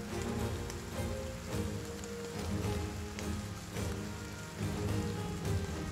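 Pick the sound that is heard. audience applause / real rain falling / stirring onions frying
real rain falling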